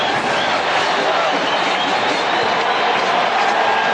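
A stadium crowd at a 1988 New Orleans Saints home game against the LA Raiders, with a sustained wall of cheering and clapping that stays loud and unbroken, the noise washing over everything.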